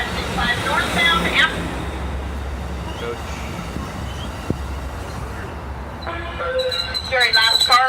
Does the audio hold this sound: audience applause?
no